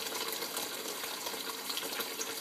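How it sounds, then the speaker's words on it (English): Open faucet running water into a bucket at about 0.9 gallons per minute, a steady continuous splashing gush heard alone at moderate level. "This is an open faucet."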